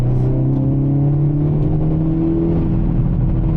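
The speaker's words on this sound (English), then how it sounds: "The exhaust on this car, stock, sounds amazing." A Hyundai Elantra N's stock exhaust drones loudly and continuously through downshifts, its pitch shifting as the revs rise and fall, heard from inside the car.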